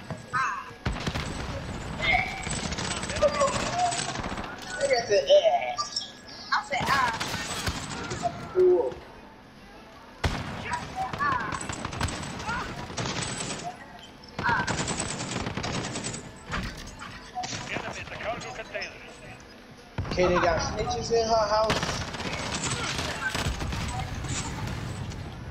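Machine gun fire crackles in rapid bursts during a Call of Duty: Modern Warfare match, repeated loud volleys separated by short pauses, with players talking over the game audio throughout.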